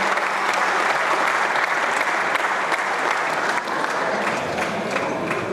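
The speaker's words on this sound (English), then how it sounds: "how about a nice round of applause for the people at Aramark" An audience at a university athletics hall of fame induction ceremony applauds, a dense, steady round of clapping that continues throughout.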